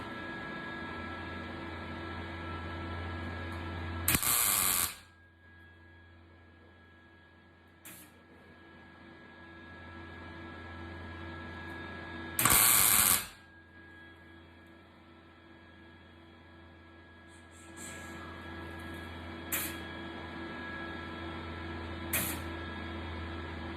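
Short bursts of welding crackle and hiss mark tack welds on patch panels of a 1969 Ford Bronco body, two longer tacks and several brief pops spaced apart over a steady background hum.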